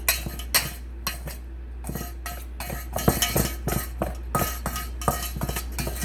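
Knives cutting butter into flour for a pie crust, a quick irregular run of scraping clinks and taps of metal against a bowl, close and moderately loud, with no talking.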